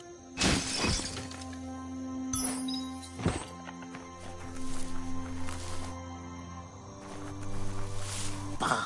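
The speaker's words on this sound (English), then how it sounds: "You shouldn't worry about smashing up the box." A box smashed apart in the Doom video game: several sharp cracking, splintering impacts, one loud hit early and more bursts later, set over a low droning ambient hum.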